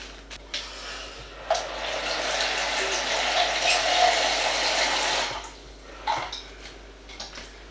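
Tap water poured for bread dough runs steadily for about four seconds, a broad hiss with faint trickling, between brief clinks of kitchen utensils.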